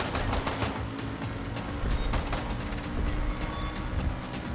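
Pistol gunfire from Far Cry 6 crackles in rapid, fairly quiet shots over a steady rumbling engine bed, with no voices.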